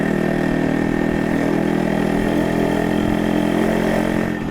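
A 1986 vintage motorcycle engine chugs steadily at low speed during a test ride, a constant close rumble with even firing pulses throughout, no talking.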